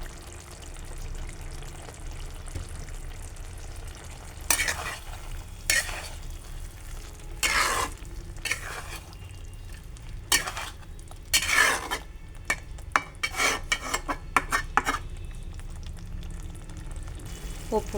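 A utensil stirs ridge gourd and potato posto in a pan with mustard oil, giving a soft sizzle under intermittent scrapes and clinks against the pan, heard close up.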